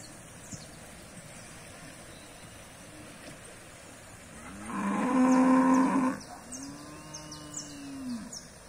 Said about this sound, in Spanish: Y Mario alimentando las vacas, dándoles agua.